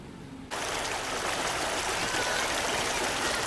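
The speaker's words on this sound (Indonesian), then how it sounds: "video amatir dari seorang warga yang merekam kondisi Sungai Batang Maek yang meluap hingga menenggelamkan masjid yang ada di pinggir sungai" Water of the flooded Batang Maek river rushing over its banks, a loud, steady broadband roar that starts abruptly and continues without a break.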